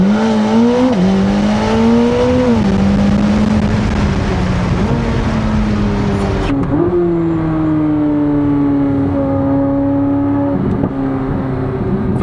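A Chevrolet Corvette Z06 engine held at high revs on a dyno, loud sustained drone with pitch shifts as it climbs and eases between gears, wind noise dropping away midway.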